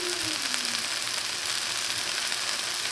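Garlic and seasoning hiss in hot oil among frying vegetables, a dense, steady, loud sizzle that holds evenly throughout without any voices.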